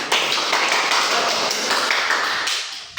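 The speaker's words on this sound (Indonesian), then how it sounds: "Boleh kasih tepuk tangan semuanya?" A class applauds group 1 during a microteaching lesson, a full, steady round of clapping that tapers off toward the end.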